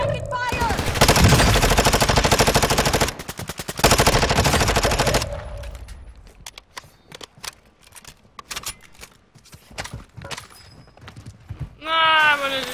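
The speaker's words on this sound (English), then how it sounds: "I'm taking fire!" Rapid machine-gun fire rattles loudly in Call of Duty Warzone 2.0 in long bursts, then fades into scattered, sparser shots and clicks. A voice speaks briefly near the end.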